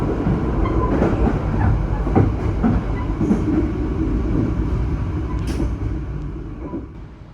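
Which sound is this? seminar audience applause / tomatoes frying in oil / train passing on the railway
train passing on the railway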